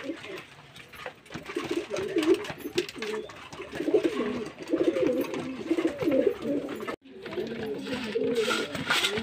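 Several pigeons at feeding time, giving steady overlapping throaty coos close at hand with soft scratching and pecking beneath and a brief break late on.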